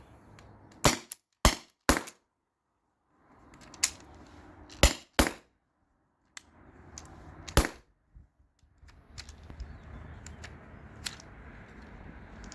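Rapid shots from a modified T4E HDP50 Gen 1 pistol fed by an HPA tank line, firing nylon balls: sharp, loud cracks in quick bursts of two or three with short gaps between, followed by mechanical handling noises and fiddling.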